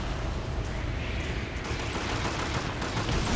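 An automated turret in Deathgarden: Bloodharvest fires continuously, a dense rapid stream of gunshots at moderate level, sustained across the whole stretch without pauses.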